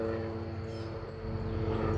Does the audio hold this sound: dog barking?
no